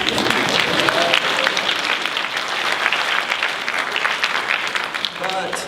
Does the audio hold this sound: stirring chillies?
no